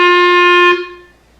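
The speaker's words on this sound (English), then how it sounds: "where we put our tongue back on the reed and physically stop the reed from vibrating" A single sustained clarinet note, bright and steady, ends abruptly when the tongue returns to the reed, followed by a brief fading room ring; close, loud and solo, with no talking.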